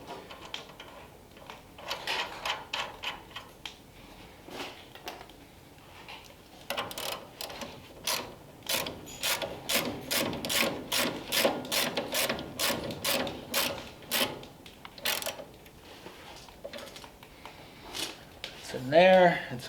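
Ratchet wrench clicking in quick repeated bursts while tightening a castle nut on the steering linkage of a 1933 Ford three-window coupe, fairly close, with someone talking quietly in the background.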